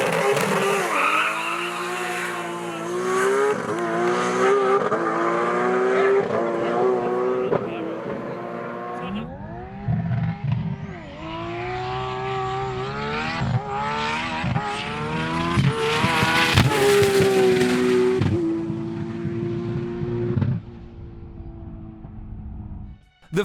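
Manual Nissan GT-R drag car with a Pro Mod 88 turbo, testing at Cootamundra: a loud engine howls up through rising gear pulls, drops off, then surges again with turbo whine and tire noise.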